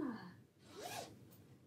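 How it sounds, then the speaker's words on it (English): A jacket lining is zipped out, giving one quick, soft rasping zip of a zipper pulled close by, quiet and brief with no speech over it. "you just zip the lining out, shove it in your bag"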